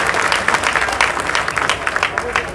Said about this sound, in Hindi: ऐसे अध्यक्ष जी के लिए जोरदार तालियों से अभिनंदन करें, स्वागत करें